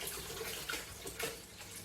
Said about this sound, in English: Add some water to the blender.